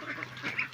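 Ducks on an egg farm give a few faint, brief quacks against a soft background murmur, with one sharper call at the very end.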